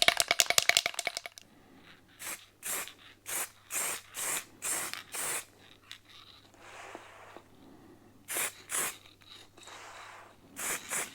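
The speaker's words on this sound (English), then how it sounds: "But I am going to lacquer it, because I think it will last longer." Aerosol lacquer sprayed onto Royal Enfield Classic 350 custom motorcycle parts, opening with a quick can-shaking rattle, then a series of short hissing bursts with pauses between them, close and clear.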